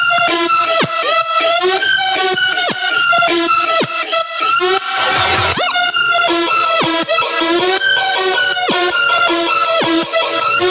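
Trap synths and effects group soloed: bright layered synth chords with stabbing rhythmic hits, plucks and a sweeping riser in the middle, loud and continuous with no voices.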